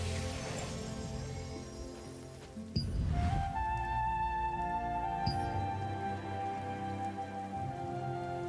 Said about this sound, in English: Rainy day. Plantaria become more vicious when it's raining, you see.